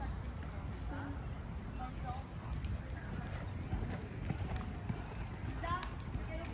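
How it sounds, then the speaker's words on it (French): Horse and pony hooves clip-clop at a riding event under a steady wash of background noise and crowd chatter. "Il y a les poneys, double poneys et cheval."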